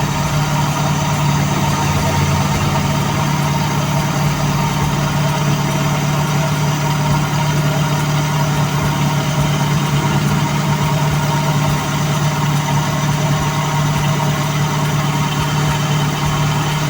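A cold-started 2E carbureted engine holds a fast idle, a steady close drone with a strong low hum and even mechanical clatter running unbroken throughout.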